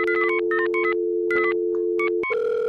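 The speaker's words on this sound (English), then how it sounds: "So you click in this box and you hear like a dial tone." A browser-based phone emulation on a jewelry website plays a steady electronic dial tone, broken by quick bursts of touch-tone key beeps, then a brief gap and the tone resuming, clean and close.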